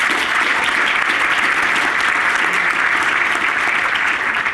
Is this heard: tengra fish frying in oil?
no